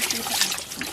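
Water pours and trickles on a rural farm, a close, bright splashing stream running steadily for under a second.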